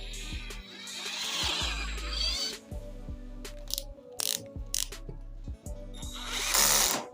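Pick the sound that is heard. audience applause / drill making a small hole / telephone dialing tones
drill making a small hole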